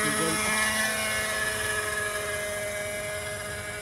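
A Hirobo Shuttle radio-controlled model helicopter flies over an open field, its steady high-pitched engine whine and rotor buzz loud and constant throughout, with no speech.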